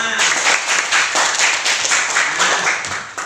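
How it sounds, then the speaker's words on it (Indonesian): Children in a classroom clap together in a burst of rhythmic applause, fairly loud and close, with a few voices mixed in. "Tepuk tangan untuk kita semua"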